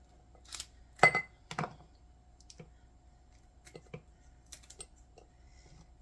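Cooked bacon being cut into pieces on a board gives a few quiet, sharp knife clicks and taps at irregular intervals, faint in a quiet kitchen with no talking.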